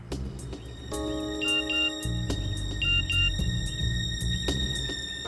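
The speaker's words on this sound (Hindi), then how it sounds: "फोन बजा।" A phone rings with a repeating electronic tone pattern over background music and low rumbling, fairly loud and steady throughout.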